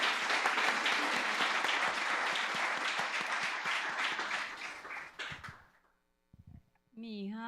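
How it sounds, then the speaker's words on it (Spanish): A Sunday church congregation claps loudly and steadily for several seconds, then the applause tapers off into near silence before a voice starts speaking. "Un aplauso para Dios, un aplauso para Dios"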